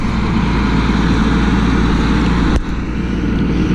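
An old one-stack Mack truck rumbles loudly nearby as it pulls up, a steady low diesel drone with one brief dip partway through.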